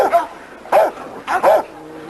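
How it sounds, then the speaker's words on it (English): A small dog barks close by, giving three or four sharp, high yips in quick succession over about two seconds, loud and clear. "this little dog called Reno"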